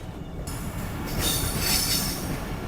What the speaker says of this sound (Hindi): ये ट्रेन जो है ना पूरी की पूरी मुड़ के जा रही है उस तरफ ट्रैक पे, दूसरे ट्रैक पे जा रही है